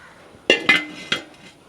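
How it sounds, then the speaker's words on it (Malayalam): A cooking pot set down on a lit stove, three quick metallic clanks in close succession, near and crisp against a quiet background. "പാത്രം വെച്ച് കൊടുത്തിട്ടുണ്ട്."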